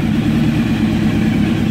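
A carbureted 2007 Honda Hornet motorcycle idles steadily nearby, its engine giving a continuous, even low rumble with no revving and no voices.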